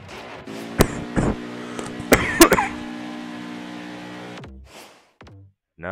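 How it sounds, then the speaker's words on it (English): Coughing from a man playing NASCAR Heat 5, a few sharp close bursts over a steady hum of racing-car engine noise, with short pauses between. "No, but I am coughing."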